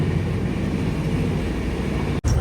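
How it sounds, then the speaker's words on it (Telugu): The Visakhapatnam Express (12862) running at speed, heard from inside the train: a constant loud roar and rumble of wheels and carriage, unbroken except for one very brief dip near the end. "మంచిగానే స్పీడ్ అయితే పోతుంది ట్రైన్"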